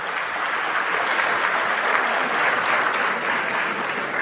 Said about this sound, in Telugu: గట్టిగా చప్పట్లు కొట్టాలండి,